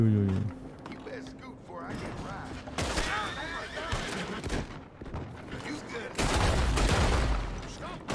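Gunfire rings out in Red Dead Redemption 2 as several loud bursts of shots crack and echo amid game noise, with someone talking over the action.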